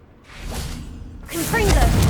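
A revealing spell cast in the Hogwarts Legacy video game makes two soft magical whooshing swells, a faint one followed by a brighter, louder shimmer, close and brief.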